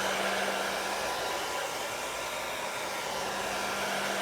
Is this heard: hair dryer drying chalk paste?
yes